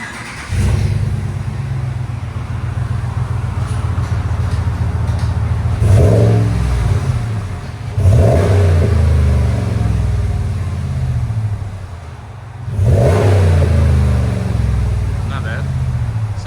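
A 2021 RAM 1500 pickup with a 5.7L HEMI V8 and Flowmaster Super 44 exhaust idles with a deep, loud, close rumble, then is revved hard in three separate bursts that swell and fall back to idle.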